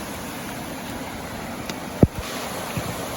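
Water rushes steadily at the foot of a waterfall near the Thrace–Bulgaria border, a constant broadband wash with a couple of brief nearby knocks partway through and no speech.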